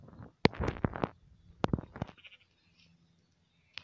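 Sheep bleat in the video game Minecraft: several loud, close bleats in quick succession, then a pause with faint background noise and a brief click at the end.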